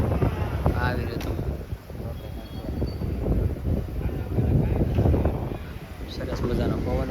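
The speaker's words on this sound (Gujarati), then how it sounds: "સરસ મજાનો પવન ઉડે છે" Steady outdoor wind rushing across the microphone near an iron staircase, a continuous loud buffeting roar with gusts swelling and easing throughout.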